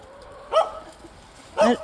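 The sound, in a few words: dog barking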